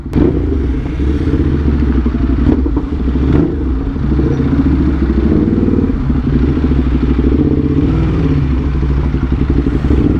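A 2022 Suzuki GSX-S1000 motorcycle engine drones steadily while riding, loud and close, with a constant rumbling hum and occasional clattering thumps.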